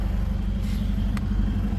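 A Kawasaki KFX400 ATV with its stock exhaust runs close by, giving a steady, low, throbbing engine note at an even level throughout.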